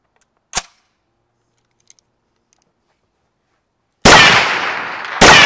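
A Remington Model 8 semi-automatic rifle, the American version of the Browning 1900, fires: one sharp distant crack early, then two loud close shots with long ringing decay near the end.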